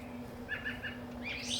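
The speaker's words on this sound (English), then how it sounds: "Baby robins are noisy today." Faint, high chirping calls of baby robins come in short bursts over a low steady hum, a few thin peeps followed by a louder rising call.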